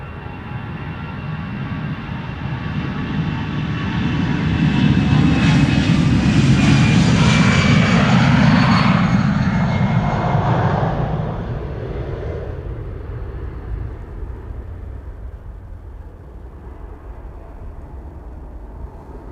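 A Cargolux cargo jet departs Amsterdam Schiphol Airport for Milan, its loud engine roar swelling to a thunderous peak and then slowly fading into a distant rumble as the plane moves away.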